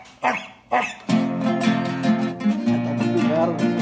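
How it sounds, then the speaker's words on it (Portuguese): A mongrel dog gives two short, sharp barks near the start, and a dense, continuous bed of music or voices then runs beneath for the rest. "Tem cachorro vira-lata."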